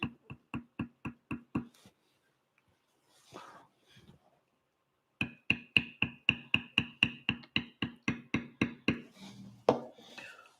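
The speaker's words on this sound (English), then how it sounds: "So I'm going to kind of bevel that little circle as well." A steep angle beveler is struck with a mallet to bevel a traced circle in tooled leather, producing crisp rhythmic knocks: a run of evenly spaced hits, a pause with faint shuffling, then a longer steady series, close and loud.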